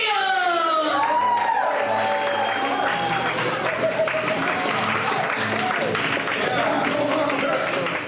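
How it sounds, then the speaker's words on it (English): A comedy club audience applauds and cheers as comedian Rodney Dangerfield is brought on, a loud continuous wash of clapping with whoops and shouts, and a voice speaking over it at the start. "Applause for your next comedian."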